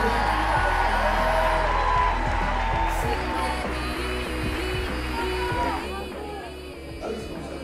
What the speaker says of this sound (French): Vous les applaudissez encore très fort